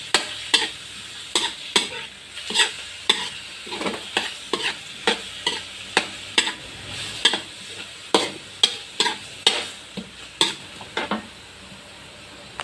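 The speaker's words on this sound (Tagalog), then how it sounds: "Yan pong pusit muna ang ating lalagay." Squid cooks in a pan for mixed seafood, with a constant soft sizzle under rhythmic utensil strokes, roughly two per second, scraping and tapping the pan up close.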